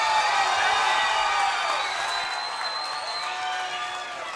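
A hometown crowd at an amateur MMA event cheers and applauds as fighter Zach Wynn is introduced, a sustained roar of whoops and clapping that slowly fades.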